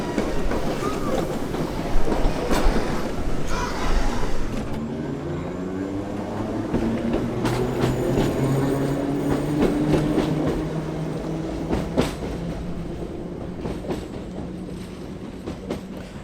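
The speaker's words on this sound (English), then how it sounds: "Once the next train comes through" A train on the Isle of Wight's Island Line rumbles past nearby at Sandown Station, its heavy low drone and rattling wheels building and then fading, with a rising tone as it moves through.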